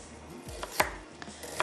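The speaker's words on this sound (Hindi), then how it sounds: "यहाँ पर जो प्याज है इसको मैं कर लेती हूँ चॉप।" A kitchen knife chops an onion on a board at a home cooking station, giving a few distinct, fairly close knocks spaced irregularly across a short, quiet stretch.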